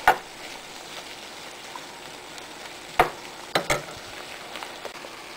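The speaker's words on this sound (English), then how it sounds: "And just saute them into the mixture like that." Sliced jalapenos are sautéed into a loaded nacho mixture, a soft steady sizzle punctuated by several sharp utensil clacks against the pan at the start and later in quick succession.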